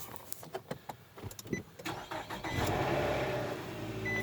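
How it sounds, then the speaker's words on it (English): A 5.3 V8 swapped into a four-door Cutlass cold starts: a few seconds of sharp clicks and cranking bursts, then the engine catches and settles into a loud, steady idle nearby. "But do a cold start. I'm gonna crank my car first."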